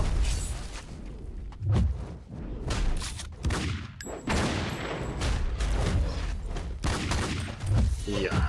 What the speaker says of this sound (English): Oh, here come the missiles